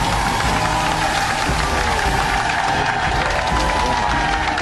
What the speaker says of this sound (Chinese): 来，掌声请出他，掌声有请。